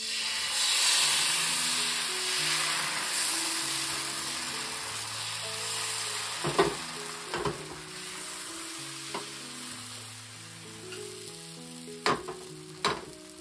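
Dosa-like fasting batter (dhirde) is poured onto a pan greased with ghee. It hisses in a steady, continuous sizzle, with a few faint scrapes and clinks near the end.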